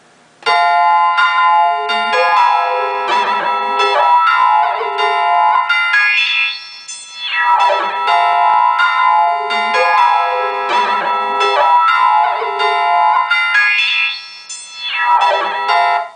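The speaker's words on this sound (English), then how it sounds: "that is obviously the church bell with pitch wheel on the side" A loud synthesized church bell sample on a Beat Thang plays a looping pattern of bright chiming tones, with pitch-wheel swoops bending between the phrases.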